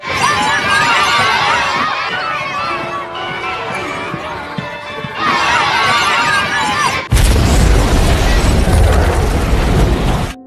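A sudden loud blast erupts partway through, a dense roaring burst of noise with deep rumble that cuts in over busy, crackling background sound.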